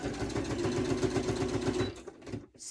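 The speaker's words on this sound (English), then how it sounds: "So now I'm going to stitch these 2 pockets really quick." A sewing machine stitching fabric pockets runs in a steady, rapid mechanical chatter, close and loud, then slows and stops near the end.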